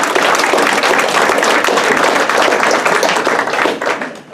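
Steady applause from a banquet audience at an EMS squad gathering honors former board members, dense clapping holding evenly before tapering off at the end.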